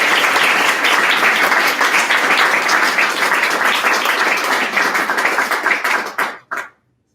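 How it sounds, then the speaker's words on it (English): Applause from the audience at a Sigma nursing honor society ceremony at Queen Margaret University: loud, sustained clapping from many people that thins into a few last claps and stops abruptly. "Pause for applause."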